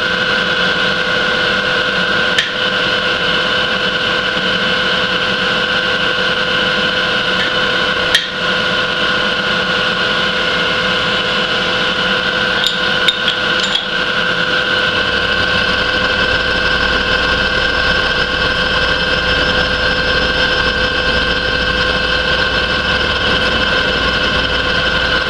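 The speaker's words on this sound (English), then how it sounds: "And we'll try our power feed." A milling machine's power feed moves the table with a steady mechanical whine and motor hum, loud and close, joined by a deeper rumble in the second half, with a few brief clicks and no talking.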